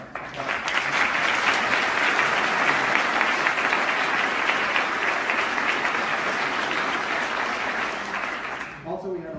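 Audience applause at a university campus speaking event, a broad sustained wash of clapping from a large crowd that holds steady for several seconds, then fades into voices at the end.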